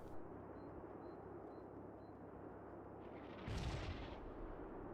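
An artillery battery fires in the video game Final Blitzkrieg: a single loud, deep boom bursts out midway through, breaking a quiet background hum, then fades off.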